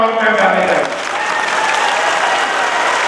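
Loud, dense applause sweeps through a large political rally crowd, sustained and roaring, with a voice briefly audible at the start.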